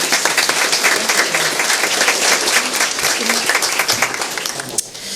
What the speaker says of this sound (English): Please clap for our lovely high school student again.